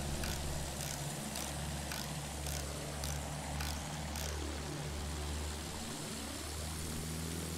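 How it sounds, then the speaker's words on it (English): Propeller bomber aircraft engine droning steadily and loudly throughout a Battlefield 1 air fight, with a deep sustained hum and shifting pitch as planes pass close by. "Oh, I'm chasing this bomber."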